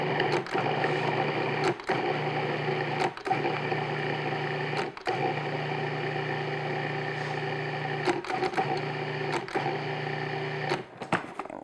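A food processor pulsing dough, its motor whirring in long runs broken by short pauses and clicks as the pulses stop and start, loud and close.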